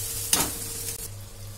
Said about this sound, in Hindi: हल्का सा लाइट ब्राउन होने तक हम इन्हें लगातार चलाते हुए भूनेंगे